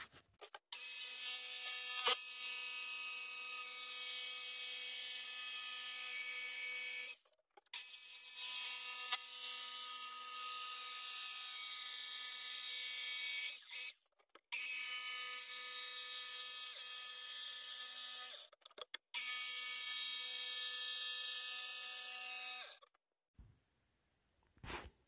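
A jigsaw buzzes steadily through wood in several long runs lasting several seconds each, separated by short pauses, close and loud.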